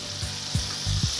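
Minced garlic sizzles in olive oil in a sauté pan, a steady moderate hiss with a few soft low knocks from the pan.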